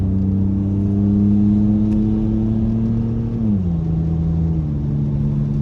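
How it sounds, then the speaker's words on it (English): A BMW E46 engine hums steadily, rises in pitch as it revs, then drops back, heard close and without any talking. "you really have to put your foot down and let the car rev up"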